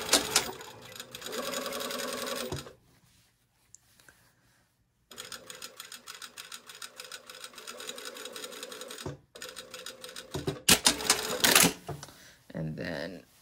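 A sewing machine runs a regular straight stitch on a garment seam, whirring and rapidly clattering in several bursts separated by short pauses, close and clear.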